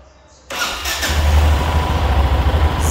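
A Yamaha XT660 motorcycle, fitted with new starter brushes, cranks briefly and fires up, then settles into a loud, steady single-cylinder idle close by.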